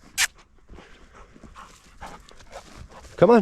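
A hunting dog pants near an RV camp in Quartzsite, with soft breathy huffs, a sharp snort near the start and a brief high whine at the end, close and fairly quiet.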